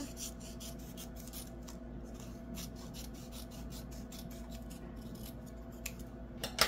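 Scissors snipping through a diamond painting sheet, a string of faint, quick crisp cuts at close range, with a slightly louder snip near the end.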